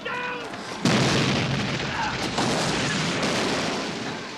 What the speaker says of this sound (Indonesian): beberapa artileri datang menghantam